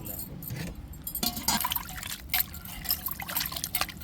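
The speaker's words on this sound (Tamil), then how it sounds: "இப்போ தண்ணீரை ஊற்றி நம்ம நல்லா அலசி எடுத்துக்கிடுவோம்" Water splashes and trickles in a busy, wet stream as water is poured to rinse mutton pieces, with scattered clinks and a soft hum of background voices.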